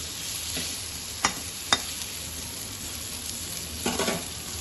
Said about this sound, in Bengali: আলুগুলো কিন্তু একদম সুন্দর সুন্দর করে লাল লাল করে ভাজা হয়ে গেছে